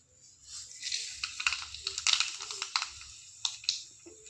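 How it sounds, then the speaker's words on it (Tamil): Mustard seeds splutter in hot oil, a close, rapid run of irregular crackling pops and snaps that thins out toward the end. "கடுகு நல்லா பொறிஞ்சதும் நம்ம வெங்காயம் போட்டுக்கலாம்"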